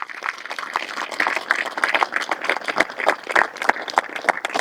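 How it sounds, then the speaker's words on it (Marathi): An audience at a Hanuman birth-anniversary satsang claps loudly for Hanuman, with irregular, bursty clapping and some crowd noise carrying on throughout, fairly close and with no clear speech. "एकदा हनुमंतरासाठी जोरात टाळ्या वाजवा."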